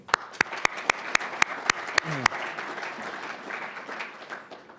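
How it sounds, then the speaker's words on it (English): Audience applause at the New York Athletic Club honoring the AAU during a James E. Sullivan Award ceremony, opening with a run of sharp, evenly spaced loud claps before settling into a steady, softer wash of clapping from the crowd. "So again, just another round of applause for the AAU."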